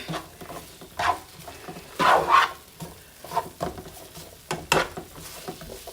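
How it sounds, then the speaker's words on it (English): Onions sauté in a hot pan, soft sizzling broken by several scraping, clattering bursts of stirring, close and fairly quiet, with no voices. "Gonna get these onions all sauteed down a little bit."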